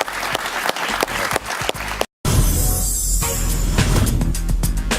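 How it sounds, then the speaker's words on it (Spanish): A studio audience on a Spanish-language TV talk show applauds, steady, dense clapping that cuts out briefly before swelling back in. "Un aplauso para él, por favor."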